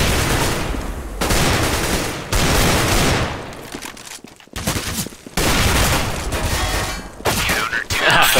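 Loud bursts of gunfire in CSGO, several sustained volleys broken by brief pauses, with a voice talking over the shooting at times.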